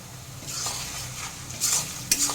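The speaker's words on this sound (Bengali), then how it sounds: "দিয়ে দেব আদা রসুনের পেস্ট।" Ginger garlic paste sizzles as it is stirred into reddish-browned fried onions in a pan while ghugni cooks, with steady frying hiss and a few sharp scrapes of the spoon.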